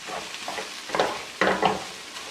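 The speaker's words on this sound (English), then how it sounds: "I'm just going to break that up and give it a good stir." Corned beef fried rice sizzles softly in a pan while being stirred, with a few scraping stirs and louder bursts of frying over a steady low crackle.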